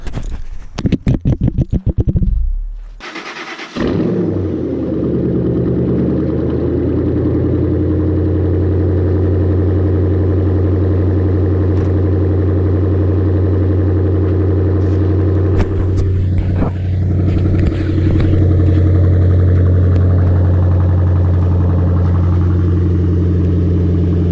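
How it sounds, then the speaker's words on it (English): A Ford Mustang GT on snow tires cold-starts with a sharp starter crank and loud revving bark, then settles into a deep, steady, rumbling idle heard close up, with a brief rise in engine noise partway through. "But let's get this cold start."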